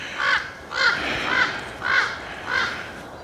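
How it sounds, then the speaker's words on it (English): Crows caw five times at a steady, evenly spaced rhythm along a trail near Big Bear Lake, California, fairly close and clear above a soft outdoor background. "Got crows, and"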